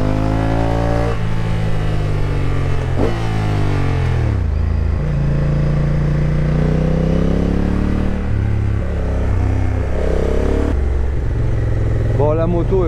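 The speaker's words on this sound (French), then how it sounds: "son du bicylindre" A motorcycle engine idles and revs with a deep, throbbing twin-cylinder pulse, rising and falling in pitch close by, loud and steady throughout.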